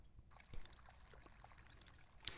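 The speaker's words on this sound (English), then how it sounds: "And then we're going to fill the pot with water." Water pours into a pot in the Boba Cafe Simulator video game, a soft, quiet trickling and splashing over about two seconds with a brief bright clink at the end.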